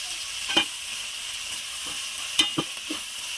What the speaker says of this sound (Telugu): సిమ్లో పెట్టి బాగా ఫ్రై చేసుకుందాం టమాటా ముక్కలు.